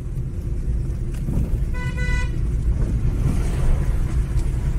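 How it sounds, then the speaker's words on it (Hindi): A car approaches along a jungle road at night in Jim Corbett National Park, its engine rumbling steadily and growing, with a short horn toot partway through. "बहुत ही रेयरली इस टाइम कोई गाड़ी आ रही है"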